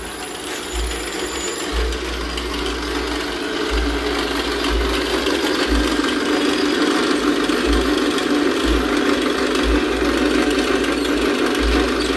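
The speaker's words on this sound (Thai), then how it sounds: "เจาะรูน็อตค่ะ" A loud, continuous mechanical grinding with a pulsing low rhythm, a power drill boring bolt holes through metal truck parts, close up and uninterrupted.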